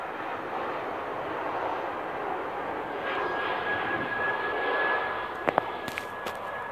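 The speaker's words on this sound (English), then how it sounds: "I'm hoping I can hear the engine roar in the background" A fixed-wing airplane passes close to Tegel Airport in Berlin, its engine roar a steady, broad wash that swells gently toward the middle and holds, with a few brief sharp knocks near the end.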